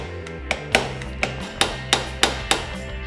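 A brass hammer strikes repeatedly to drive the wrist pin out of a small pit bike engine, CRF70 or XR70 type, about eight sharp metallic blows at an uneven, quickening rhythm, close and loud.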